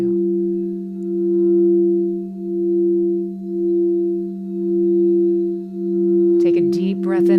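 A crystal singing bowl sustains a steady, pure 432 Hertz tone with slow, gentle swells in volume, ringing alone until a voice begins near the end.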